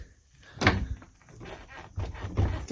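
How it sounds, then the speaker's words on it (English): Rear double doors of a newly bought van swing open and latch, giving a loud thunk with a metallic clatter, then further knocks and clunks as the doors settle and lock, close by in a quiet interior. "these doors open up like this, and they actually kind of lock"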